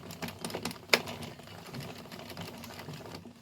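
The carriage of a hand-cranked 22- or 46-needle knitting machine is cranked along a row, giving a rapid, rhythmic clatter of needles close by with one sharper clack near the start.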